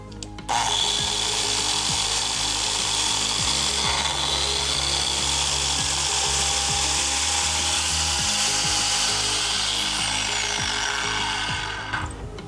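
Biscuit joiner cutting a slot in wood, a steady loud whirring blade-on-wood cut running for about twelve seconds before spinning down, with no talking.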